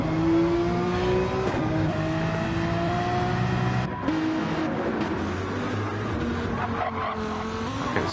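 A Lamborghini race car in the eDTM racing game at Fuji, its engine droning loudly throughout with rising and falling gear pitches, tire squeal and skidding, and several cars revving together.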